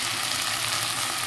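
Leafy greens sizzle in a hot pan, a steady dense frying hiss filling the short moment with no pauses and no voices.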